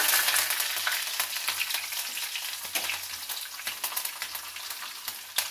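Mustard seeds, chana dal and curry leaves sizzle steadily in hot oil for a variety capsicum curry tempering, a dense close crackle with scattered sharp pops and occasional stirring, no voices.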